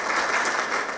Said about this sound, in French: Je pense que le MEDES quand même mérite vos applaudissements.